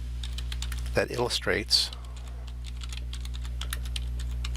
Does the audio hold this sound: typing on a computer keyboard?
yes